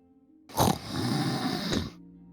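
A voice imitates a large man snoring: one drawn-out, rough, rasping snore lasting over a second, close and fairly loud, with short silence before and after.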